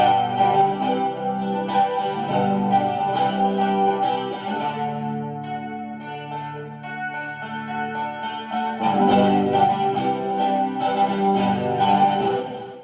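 Custom hollow-body electric guitar played through an effects unit that gives a thin, telephonic, chorus-like tone, sustained chords and melodic lines ringing steadily for about thirteen seconds, loud and alone with no talking.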